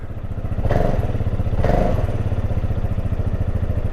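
A Vespa GTS 500 scooter engine cranks and catches with two quick starter bursts, then settles into a loud, steady, close idle with a rhythmic putter.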